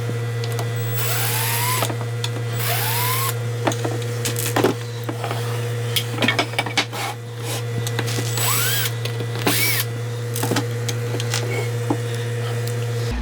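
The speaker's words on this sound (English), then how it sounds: "Let's go ahead and take these screws out." A power drill backing screws out of a wooden coffee table stand: repeated whirring bursts with rising pitch and clicks over a steady low motor hum, close and loud, no talk.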